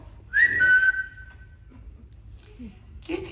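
A long rising whistle sounds on stage during a musical production of Peter Pan, one loud sustained tone that fades out, with brief voices and stage noise following afterward.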